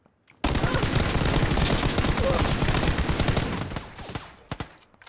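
Sustained automatic gunfire from an M4 rifle sprays in the PUBG battle game, loud and dense for about four seconds before trailing off into a few scattered shots.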